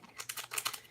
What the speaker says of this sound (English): it came in this nice little plastic bag